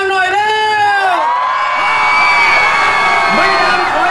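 Concert crowd at an outdoor fair in Phuket screaming and cheering loudly, a sustained wall of shrill shrieks and whoops from many voices after a host's greeting.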